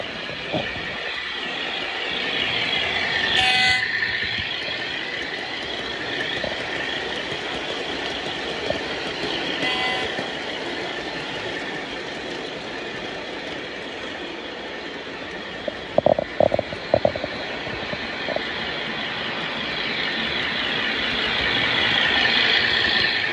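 An Ace Trains O gauge LMS model diesel locomotive hums steadily with a constant engine drone, broken briefly by a few sharp clicks and clacks of the track partway through.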